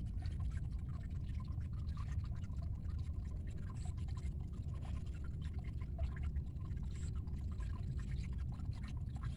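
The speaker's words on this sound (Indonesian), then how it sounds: "Ini pinggirannya saya buat aliran air yang agak dalam biar lancar airnya dari sungai." River water runs through an irrigation channel dug along the edge of a rice field, giving a steady, close trickling and gurgling flow that continues without a break.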